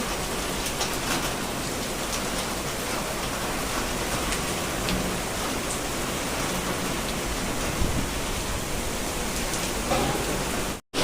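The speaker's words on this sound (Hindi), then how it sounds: "तेज बारिश आ गई है आज फिर से" Heavy rain pours steadily, a dense continuous hiss of drops on surfaces, loud and unbroken throughout with no voices.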